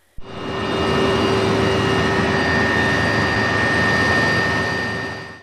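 A steady, loud military helicopter engine roar with a constant whine, holding level throughout after a sudden start.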